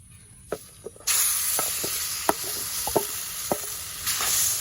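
Ground lentil paste hits hot oil seasoned with dried red chilli, nigella seeds and turmeric, starting a steady loud sizzle, with sharp spoon scrapes against the pan at irregular intervals.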